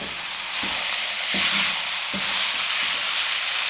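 Mash dal fries in a pan with a steady, loud sizzle, broken by regular spoon-stirring scrapes about once every second, with no voices.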